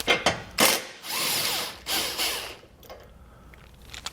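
A power tool loosens a 13 mm bolt on an exhaust isolator bracket in several short whirring, ratcheting bursts with brief gaps between them, close up, then a quieter mechanical tail.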